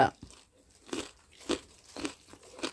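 Someone close by chews chicken with loud, crunchy bites about every half second, each crunch sharp and followed by softer mouth noises.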